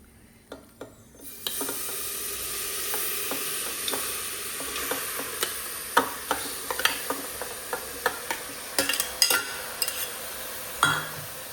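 Pork frying in its own rendered fat for a roast, a steady close sizzle rising after a quiet start, with repeated clinks and scrapes of a spoon against the pan throughout; no talking.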